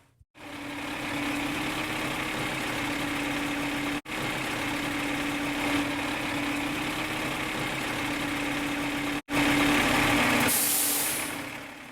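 Fire apparatus diesel engine idling outside, a steady loud drone with a constant low hum, briefly cut twice, ending with a hiss like an air release.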